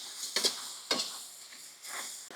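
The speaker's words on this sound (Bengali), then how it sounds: "এখন আমি চিকেনগুলো ঢেলে দিচ্ছি।" Chicken pieces tipped into a hot pan with lemongrass and Thai leaves for hotel-style sizzling garlic chicken, giving bursts of sizzle and soft stirring scrapes, three louder surges over a steady frying hiss, close and alone.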